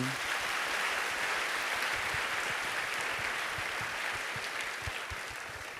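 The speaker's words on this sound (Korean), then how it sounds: "하나님께 영광의 박수를" Church congregation applause during a charity market report at a worship gathering, a dense, even clapping that continues steadily throughout, moderately loud and unaccompanied by speech.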